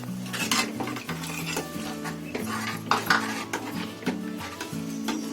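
Cornflour paste is poured into a wok and stirred, with a spoon scraping and clinking against the metal in a busy rhythm over a light sizzle and a steady low hum.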